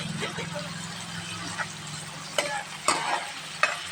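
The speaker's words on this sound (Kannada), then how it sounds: "ಟೊಮೆಟೊನ್ನ ಹಾಕಿ ಉಳ್ಳಾಗಡ್ಡಿ ಎಲ್ಲ ಚಲೋತ್ತಾಗಿ ಫ್ರೈ ಆಗ್ಬೇಕಿದು." Tomato and onion frying in a pan for gravy, a soft steady sizzle with occasional stirring clinks and scrapes, close and moderately quiet.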